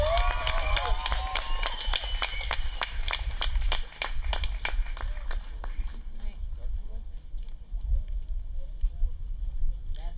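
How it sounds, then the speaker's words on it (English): An audience applauds the graduating class of 2023 at a grade 12 graduation ceremony, steady crowd clapping over a room murmur that fades after several seconds into quieter background and voices. "give a round of applause for the class of 2023"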